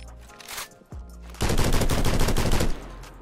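A SCAR rifle firing in the Criminality video game, a rapid sustained burst of loud, close automatic shots lasting over a second, preceded by a few quieter clicks and handling noises.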